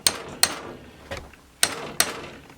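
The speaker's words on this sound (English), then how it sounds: "actually an impact driver." A cheap impact driver working on stubborn screws, giving five sharp, loud hammering bursts at irregular intervals with quiet gaps between, close by and with no talking.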